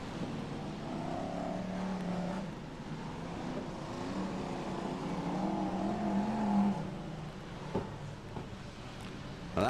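BriSCA F1 stock cars race around the Long Eaton oval at a 1994 meeting, engines roaring and droning at a distance with rising and falling pitch as cars circle, over wind and crowd-like background noise.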